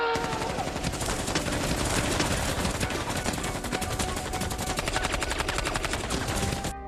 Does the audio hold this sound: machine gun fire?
yes